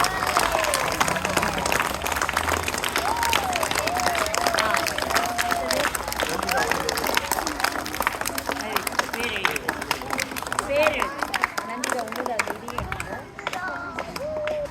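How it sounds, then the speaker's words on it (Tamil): An audience claps for school students awarded a silambam prize, sustained dense applause from a crowd mixed with cheering and voices, steady and loud for about fifteen seconds before easing. "கைத்தட்டு"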